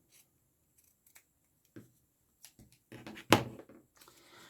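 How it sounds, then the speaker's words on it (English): Scissors trimming fabric seam allowance for a table runner, a few quiet snips and rustles building to one louder crisp cut near the end, close by and without talk. "I'm just going to trim the seam allowance. So I'll just fold that piece back, and we'll just cut that down a little bit."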